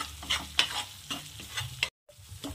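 Masala paste for dhaba-style paneer masala frying in oil in a pan, stirred with a spoon: a soft, steady sizzle with scraping strokes at close range, a brief silent break, then the sizzle resumes.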